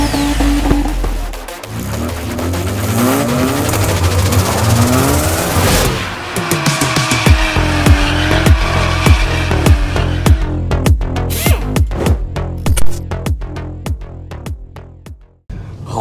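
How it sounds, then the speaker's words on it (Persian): Tesla Model 3 electric car on the move, a loud, continuous broadband rush with shifting whine and tire noise, broken later by a run of sharp clicks and knocks before it drops away near the end. "خب آقا اومدیم ببینیم رانندگی این ماشین الکتریک خوشگل و فندقی چجوریه"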